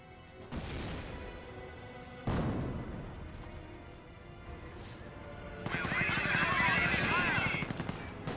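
Bursts of .30 cal machine gun fire in a Company of Heroes battle, two sharp onsets followed by a longer, louder sustained rattle, mixed with other battlefield noise.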